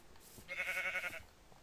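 A goat in the Minecraft video game gives a single short, wavering bleat lasting under a second, clear over a faint quiet background.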